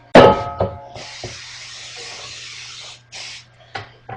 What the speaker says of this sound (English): Need the spray.